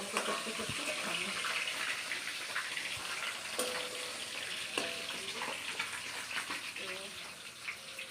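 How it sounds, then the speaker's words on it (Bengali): Fish frying in a pan gives a steady broad sizzle throughout, with scattered clicks and clatter and voices talking faintly underneath. "মাছ ভাজা চলছে"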